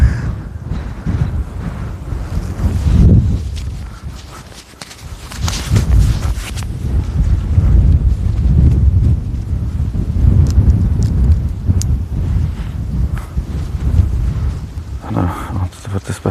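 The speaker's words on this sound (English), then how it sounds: "it's windy as fuck here as well" Strong coastal wind buffets an outdoor microphone on Our Lady's Island, Ireland, with continuous low rumbling gusts and bursts of wind noise throughout, and a person talking intermittently underneath.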